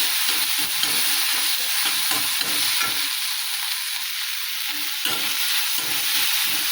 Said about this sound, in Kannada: ಈಗ ಎಲ್ಲ ಫ್ರೈ ಆಗ್ಯಾದ್ರಿ.